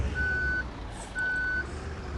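A 2019 Mercedes-Benz Travego coach in Bus Simulator Ultimate backs up with its reversing alarm sounding, two long steady beeps separated by a pause over a low engine hum, with no talking.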